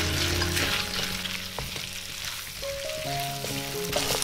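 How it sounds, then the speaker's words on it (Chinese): Chicken stir-fried with ginger in a wok after its moisture has cooked off, a dense close sizzle with spatula scrapes and clanks throughout, accompanied by faint background music. "继续再翻炒一会儿。"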